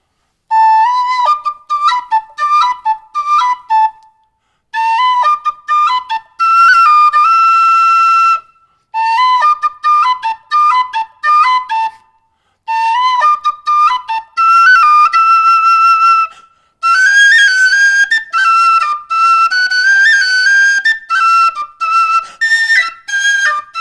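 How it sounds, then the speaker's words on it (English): A silver whistle plays a seal-calling tune, bright piping phrases of quick notes and held tones in several bursts separated by short gaps, loud and close with no voices over it. "on the whistle he played a seal-calling tune"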